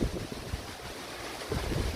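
Strong gusts of a Kalbaisakhi storm roar steadily against the microphone, a dense rushing wind with rumbling buffets that surge again toward the end, no voices heard.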